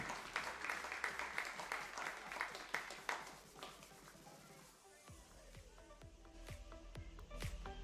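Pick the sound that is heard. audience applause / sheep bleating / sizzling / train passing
audience applause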